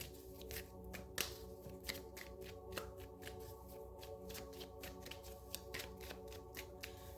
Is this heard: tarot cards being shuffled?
yes